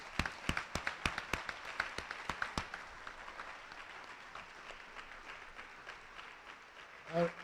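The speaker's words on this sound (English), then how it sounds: "One more round of applause for all of our scholarship recipients." A school awards-night audience applauds scholarship recipients, with a burst of loud individual claps close by at first that thins into softer scattered clapping before dying away.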